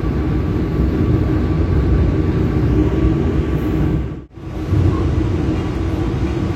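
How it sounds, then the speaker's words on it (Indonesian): Rumble of an economy-class Brantas train carriage as the Sancaka express on the Surabaya Gubeng–Yogyakarta route passes close by, a steady loud roar with a sudden brief dropout near the end before the rumble resumes. "Dan ini berpapasan dengan kereta api Sancaka relasi Surabaya Gubeng Yogyakarta"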